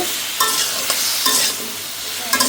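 Vegetables stir-frying with ground spices in a pan: a loud, close sizzle with several sharp scraping strokes of a spatula against the pan, coming in quick bursts.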